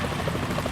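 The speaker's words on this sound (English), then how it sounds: "Is that a chopper I just heard?" A helicopter in the video game Metal Gear Solid 2 gives off a loud, steady whirring rotor roar that fills the whole moment without any voices.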